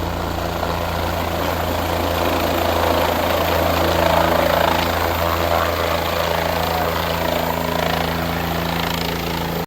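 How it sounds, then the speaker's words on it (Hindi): A helicopter's loud, steady rotor thump and engine whine dominate throughout, close by and sustained as it sets down on a helipad. "ये देखिए हेलीकॉप्टर लैंड कर रहा है हेलीपैड पर।"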